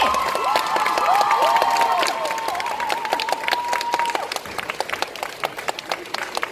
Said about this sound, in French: je vous demande un tonnerre d'applaudissements pour les participants du défilé